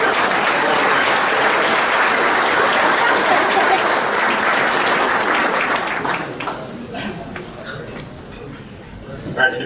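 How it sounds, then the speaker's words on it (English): An audience at the 2020 Norwood Sorrento's Softball Hall of Fame Banquet breaks into loud, dense applause that holds for several seconds, then thins out and fades to scattered claps. "Let's give these folks a round of applause."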